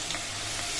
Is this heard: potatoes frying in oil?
yes